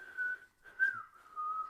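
A person tries a wolf whistle, producing faint, thin whistled tones in three short breathy bursts with small pitch slides, close and quiet.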